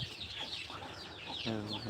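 Chickens kept in a backyard coop cluck and call nearby in short overlapping bursts, with a louder squawk near the end; someone talks faintly in the background.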